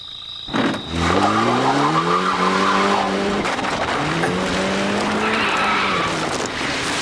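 A car's tires squeal and skid in two long, loud, pitch-sliding bursts as the wheel gets stuck, with a continuous engine rumble underneath.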